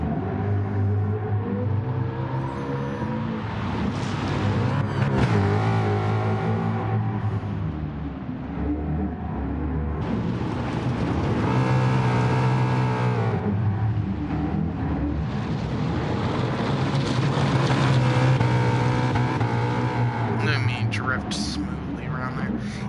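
A car engine in the racing game GT Sport drones and revs continuously with shifting pitch, loud and close, while a person talks over it throughout.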